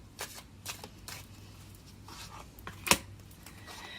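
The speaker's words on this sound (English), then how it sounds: "if you don't want to watch me shuffle, you can always fast forward" Tarot cards being shuffled by hand, soft papery riffles and taps repeating at an uneven rhythm, close and quiet, with one sharper snap near the end and no talking.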